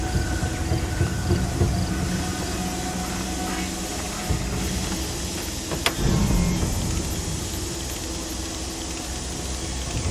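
Cheap little car driving in Far Cry 2, a steady droning engine and rolling road rumble held at one loud level throughout, with a brief clunk partway through.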